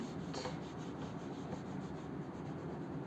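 Rubbing out writing on a board during a maths lesson on matrices, a continuous close scrubbing and rasping that keeps up steadily throughout, with no talk.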